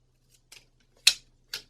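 Scissors snip through a Happy Planner Woodland Seasons sticker book sheet in a few short, crisp cuts, two faint and two sharper, separated by quiet pauses.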